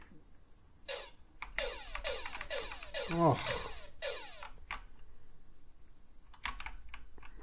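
Keys on a BBC Master computer keyboard clatter in quick irregular bursts of close, crisp taps, pausing briefly now and then, while a person speaks a word partway through.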